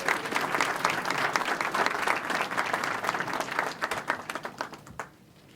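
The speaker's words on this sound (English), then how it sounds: "Let's give everybody a round of applause" A graduation ceremony crowd applauding steadily with dense, sustained clapping that tapers off into silence near the end.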